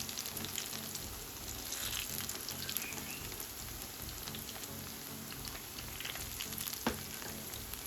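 Steady crackling sizzle of accara bean fritters frying in hot oil over a moderate fire, continuous and close, with faint occasional clinks and no voices.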